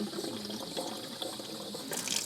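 Water-contaminated diesel pours from the half-full tank of a Kubota L2350 tractor into a bucket below, a steady close splashing, pouring stream that runs unbroken for the whole stretch and swells slightly louder near the end.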